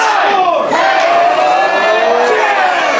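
A loud crowd at an independent wrestling show chants in unison with the ring announcer. The drawn-out shouted counts blend into a continuous, roaring wall of voices.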